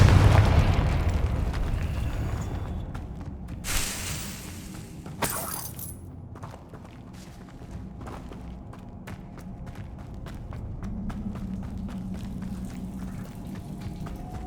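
A fiery blast cast by the Confringo spell in Hogwarts Legacy, a loud booming explosion that rolls off into crackling debris, followed by a quieter stretch of rapid clicking and a low hum.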